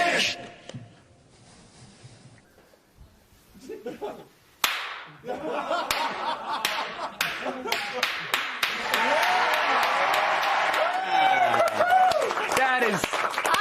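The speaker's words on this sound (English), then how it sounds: "Ron Paul's slow clap is the greatest slow clap you can have" Crowd applause from a live TV show audience, starting as sparse slow claps that grow into dense, loud, sustained clapping with some scattered cheering.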